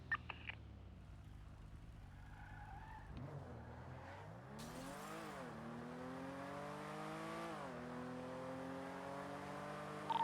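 A car in the NoPixel GTA roleplay game accelerates, its engine note climbing through repeated gear shifts as it revs steadily higher, loud and continuous, with a brief skid at the start.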